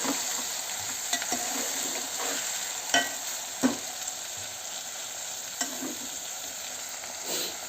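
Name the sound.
ingredients frying in a pan for avarekayi uppittu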